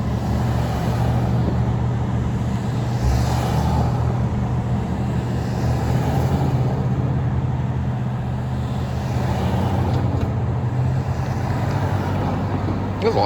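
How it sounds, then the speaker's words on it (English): Cars and trucks stream steadily along US 377 in Texas, a constant roadway hiss and low rumble heard from nearby without a break, with someone talking over it. "There's a lot of cars passing right there"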